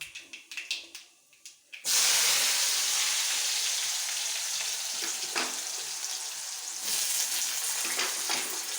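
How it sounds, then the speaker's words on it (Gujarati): Mustard seeds sizzle and crackle in hot oil in a village kitchen, a loud steady frying hiss that begins abruptly after a few soft knocks and carries on close up with scattered pops. "એમ રાઈનો વઘાર કરીશું"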